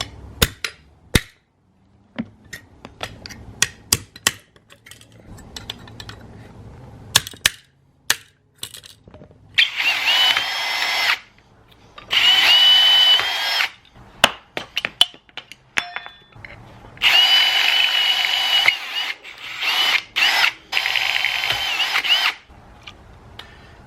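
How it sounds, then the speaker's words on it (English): Power drill boring out old rivets on a snowmobile bumper, loud close bursts of high whining drilling several seconds each, separated by sharp metallic clicks, taps and clatter of loose rivet pieces. "take a punch and hit the center of the rivet, knock it out, and then drill the rest out"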